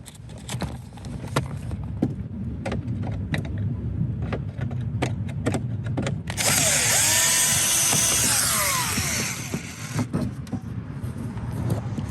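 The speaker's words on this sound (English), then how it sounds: "Go ahead and undo this screw." A screw is undone in a BMW 6 Series dashboard. Light ticking clicks repeat over a background hum, then a loud high whirring burst lasts several seconds before the clicks return.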